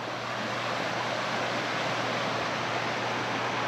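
A creek in the Smoky Mountains rushes steadily, a dense, even wash of flowing water with no pauses, fairly close and without voices.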